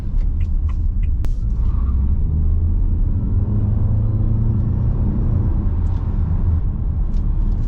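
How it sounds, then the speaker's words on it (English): A 2023 Haval H6 HEV hybrid SUV accelerates, heard from inside as a loud steady low rumble of road and drivetrain noise with a faint rising whine. "we'll just try out a little bit of acceleration and see how it goes."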